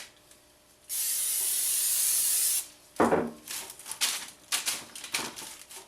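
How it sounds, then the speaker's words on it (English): A single long hiss of butter-flavored non-stick cooking spray lasts about two seconds, followed by quieter rustling and tapping sounds. "Take a little non-stick butter flavored spray."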